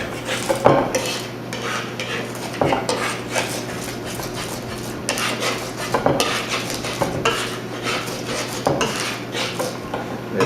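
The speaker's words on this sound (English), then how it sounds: "use my knife, and really put a nice crush on this garlic" A kitchen knife crushing and scraping garlic with salt on a board into a paste, giving repeated dull presses and scrapes with clinks of utensils against a steady low hum, close and moderately loud.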